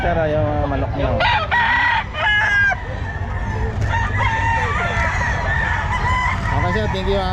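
Many chickens cluck and several roosters crow loudly and close by at a pet market in Bocaue, overlapping in a busy barnyard chorus.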